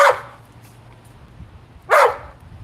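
A dog in a video game gives two short, loud barks, the first at the very start and the second near the end, separated by a quiet stretch with a faint low hum.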